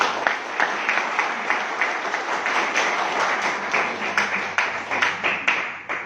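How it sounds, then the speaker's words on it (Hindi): Applause in a workshop training hall, a sustained round of clapping from the audience with distinct individual claps punctuating the steady wash before it fades at the end. "एक जोरदार तालियां आप सभी के लिए।"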